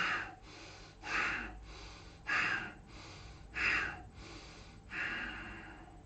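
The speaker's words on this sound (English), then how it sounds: "we're just going to take 5 rhythmic abdominal breaths here." Slow, rhythmic abdominal breathing during a gentle hatha yoga practice: five close, airy breaths, each a deep whooshing inhale or exhale spaced about a second apart, quiet with no talking.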